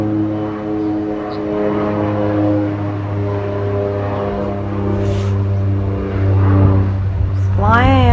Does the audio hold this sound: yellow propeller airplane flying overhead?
yes